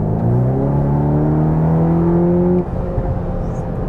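A 300-horsepower 2023 Volkswagen T-Roc R in Race mode revs hard, its engine note climbing loudly and steadily before dropping off abruptly into a rougher idle, heard close from inside the car.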